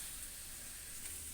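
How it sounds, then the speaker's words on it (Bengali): Chicken pieces frying in a pan for Bengali chicken kosha, giving a steady, close sizzle and hiss throughout a brief moment. "এবারে আমি এই চিকেনটাকে এটার মধ্যে দিয়ে দেব, দিয়ে ভালো করে কষিয়ে নেবো আবার।"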